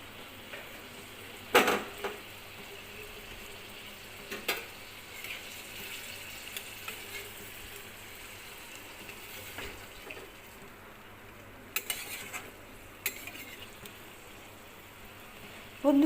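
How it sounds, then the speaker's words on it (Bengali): Fish pieces dropped one by one into hot oil in a pan while cooking a home meal, with a steady, hissing sizzle throughout and a few louder bursts and clatters when pieces go in, no talking. "মাছগুলো আমি এক এক করে ছেড়ে দিলাম।"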